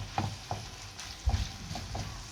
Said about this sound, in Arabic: بننزل عليها البصلاية المفرومة ونقلبهم كويس مع بعض